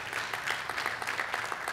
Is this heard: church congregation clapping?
yes